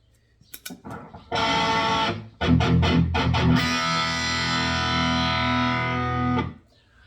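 A heavily distorted electric guitar plays a few short chugs, then rings out a long sustained chord that cuts off abruptly.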